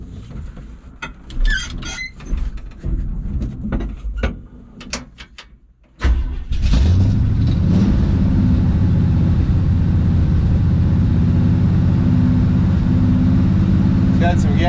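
An engine fires up after cleanup of an old crusty gas tank and settles into a loud, steady run, preceded by several seconds of clunks and handling noises close by.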